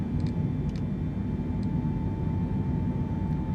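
A Boeing 747 accelerating fast in Microsoft Flight Simulator, heard as a constant heavy roar of jet engine noise with a faint steady tone and a few brief clicks, no speech.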